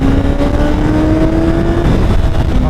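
A car with Brocks exhaust launches hard, its engine revving loud and close with a rising whine that holds steady, then drops and climbs again near the end.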